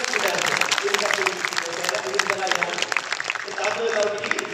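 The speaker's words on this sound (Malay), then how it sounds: "Tepukan bagi tuan-tuan" Audience in a hall applauds: a dense, steady patter of many hands clapping at an even level throughout, with some speech mixed into the clapping.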